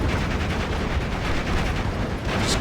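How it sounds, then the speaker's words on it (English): Sustained, dense battlefield gunfire from the Steel Division: Normandy 44 wargame as airborne units and Italian infantry trade shots in a ruined, burning town at Carpiquet, a loud continuous crackle of small-arms and machine-gun fire with heavier bursts. "Just constant gunfire backwards and forwards between the airborne units and my Italian infantry"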